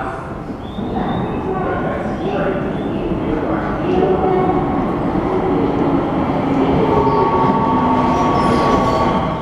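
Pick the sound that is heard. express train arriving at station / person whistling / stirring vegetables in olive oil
express train arriving at station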